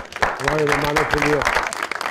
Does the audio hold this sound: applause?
yes